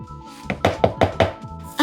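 Caster sugar, baking powder and ground cardamom for waffle batter land in a bowl as four or five soft, close knocks in quick succession, followed by a louder clatter at the end.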